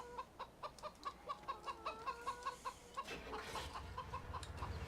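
Chickens cluck repeatedly in a Farming Simulator 17 farmyard, a steady run of short, fairly close clucks with one faint crow, over a low hum of game ambience.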